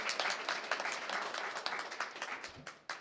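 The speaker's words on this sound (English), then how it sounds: "So another big round of applause." Applause from the audience at a Board of Education work session, a steady round of many hands clapping that sounds fairly distant and soft.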